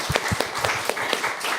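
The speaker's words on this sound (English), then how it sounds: "And give him a warm hand of applause." Brief audience applause at a talk on investigative journalism, a few distinct loud claps up close over a general patter of hands, fairly steady and short.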